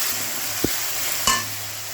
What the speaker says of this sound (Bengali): এরপরে আমি বেটে রাখা মশলাটা ঢেলে দেব।